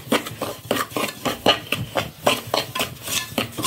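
Semolina stirred and scraped with a utensil in a heavy pan with sesame oil, giving a steady series of rhythmic metallic clinks and scrapes, close and moderately loud, with no voices.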